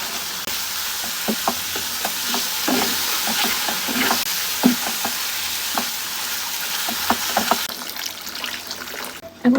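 Fish kofta balls drop into a hot pan of curry sauce and sizzle steadily, with scattered sharp crackles and spatters throughout and a brief clatter near the end, close and fairly loud with no talking.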